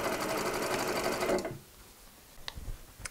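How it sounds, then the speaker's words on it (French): A sewing machine stitches a waistband right side to wrong side in rapid, even bursts for about a second and a half, then stops, leaving quiet room sound and a few small clicks. "là on coud endroit contre envers avant de rabattre"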